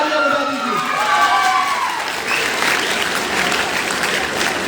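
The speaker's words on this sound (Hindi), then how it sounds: "उनके लिए एक बार जोरदार तालियां बजा दीजिए" Audience applause at a motivational training event, loud sustained clapping from a crowd, with voices audible over it near the start.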